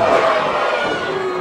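A wrestling audience at a Midwest independent show roars for Brian Ash, a loud, dense wash of cheering and shouting that eases slightly toward the end.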